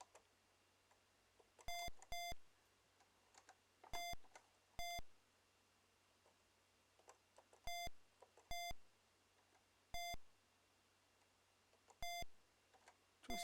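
Beeping from an Amstrad video game, a string of short, clean electronic tones repeated in pairs and singles at irregular intervals, clear but fairly quiet against faint background hum.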